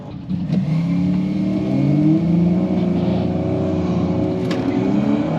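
An Audi B9 S4 with an Integrated Engineering Stage 1 tune on E40 fuel launches at a drag strip under full boost, a loud, continuous engine roar climbing in pitch through hard shifts, heard close up.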